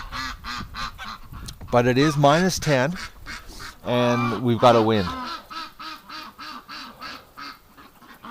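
Ducks quack in a winter farmyard near a barn, close and loud, mixed with honking calls, while a person talks over them.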